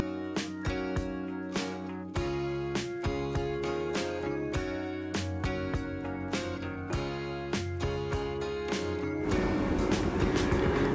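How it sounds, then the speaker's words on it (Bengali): A Ruposhi Bangla Express train between Dhaka and Benapole running with a steady rhythmic clatter of wheels over rail joints, evenly spaced beats, shifting to a rougher rumble at the end. "পাঁচ মিনিট পরে কিন্তু ট্রেনটা আবার তার গন্তব্যের দিকে রওনা হয়ে গেল"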